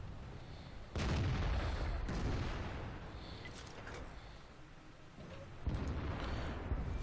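Tank cannon shots in the World of Tanks video game hit as two heavy booming blasts, each followed by a long rolling rumble that slowly decays. The second shot lands several seconds after the first.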